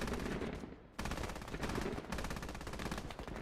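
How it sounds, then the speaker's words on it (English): Anti-air gun in the Squad military shooter firing long rapid bursts, loud and close, with a brief pause before the heavy automatic fire resumes. "Anti-air shooting into the forest."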